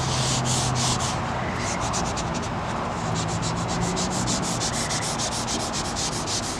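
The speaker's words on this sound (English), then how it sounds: "rubbing across the vinyl" A felt-faced squeegee rubbing across a vinyl car sticker, giving a loud, continuous close-up scraping hiss with repeated strokes and no speech.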